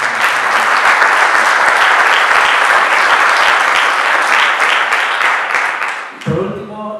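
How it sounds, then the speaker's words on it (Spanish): Loud, sustained audience applause at the Raíces Maspalomas 2021 awards ceremony, a dense wash of clapping that holds for about six seconds before fading, followed by a voice starting to speak. "Un aplauso para las personas"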